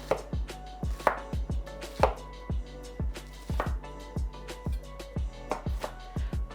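Vegetables for pico de gallo are chopped with a knife on a board, a steady run of quick, crisp, close strokes that pauses briefly midway and then picks up again, with a low hum underneath.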